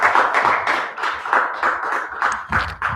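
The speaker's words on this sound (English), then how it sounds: "Let's clap for her again." Audience applause at a digital economy conference event, steady dense clapping from a crowd that holds through the whole stretch with a slight swell near the end.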